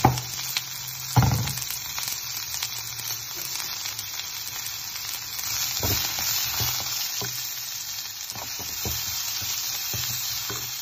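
Thick-cut onions fry in a pan with a dense, steady crackling sizzle, a loud clatter near the start as they go in, then occasional stirring knocks, no speech.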